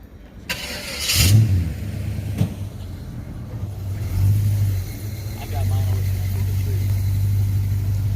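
A 1970 Chevrolet Monte Carlo SS 454 V8 cranks and fires up, then idles and revs as it prepares to move, loud and close, while people chat nearby.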